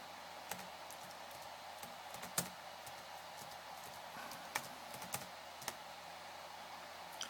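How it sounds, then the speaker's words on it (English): Sparse, faint keystrokes tap on a computer keyboard, a few isolated clicks against a quiet hiss while a description is typed during Windows XP setup. "I'll go ahead and type in the description here"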